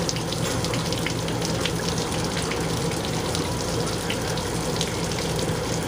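Water gushes and splashes steadily without pause, a continuous rushing flow as a gray water tank empties through its drain outlet when the handle is pulled, close by.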